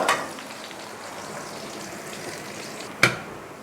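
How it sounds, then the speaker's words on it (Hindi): Taro root (arvi) frying with garlic and onion in a pan, a steady soft sizzle with a brief stir or clatter at the start and a sharper burst near the end; no talk. "इसको भी मैं फ्राई करूँगी।"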